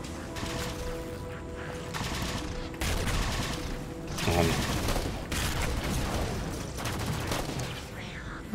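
Rapid machine gun bursts in a Halo 4 firefight crackle continuously in dense, loud volleys with a few heavier impacts, and players talk over the shooting.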